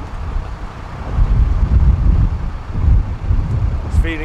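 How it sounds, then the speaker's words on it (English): Gusty wind buffets the microphone outdoors while travelling, low rumbling blasts rising and falling in uneven waves, with a faint brief high chirp near the end. "It's feeling windy again."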